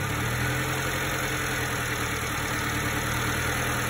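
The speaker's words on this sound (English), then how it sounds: "You heard the engine bog down?" A Subaru Sambar truck engine idles steadily and evenly for several seconds, a continuous low rumble with a faint high whine and no speech.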